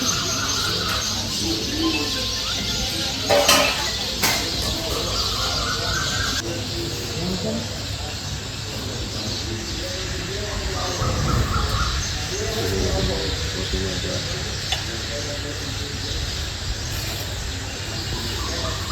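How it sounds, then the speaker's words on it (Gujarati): Sparrows chirp in a lively chorus at Surapura Dham temple in Bholad, with steady busy twittering over outdoor background noise and a few sharper calls standing out. "કેટલો મસ્ત કલરવ ચકલીઓનો સંભળાઈ રહ્યો છે દિયાસમાં."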